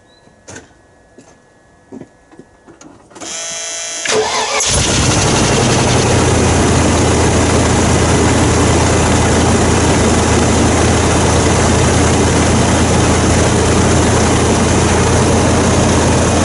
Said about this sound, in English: Let's fire her up, see if everything's okay.